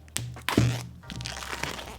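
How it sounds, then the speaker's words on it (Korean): Tight plastic film is peeled and torn off the box of AKG N5005 earphones, giving a few sharp crackling snaps followed by softer crinkling, close up. "이 비싼 거라서인지 비닐이 쉽게 떼어지진 않는데?"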